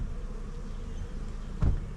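Honey bees hum around an open hive in a low, continuous buzz, with a brief louder thump or close pass near the end.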